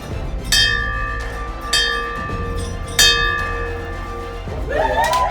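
Hand-rung brass bell struck by a patient going home after hospital treatment, three clear clanging strikes about a second apart, each ringing out and fading over a steady low background hum, with a final shaken jangle at the end.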